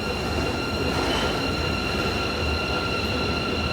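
Train at a station, giving a continuous loud rumble of railcars with a faint metallic squeal of wheels held through the whole stretch, steady and close, with no talk.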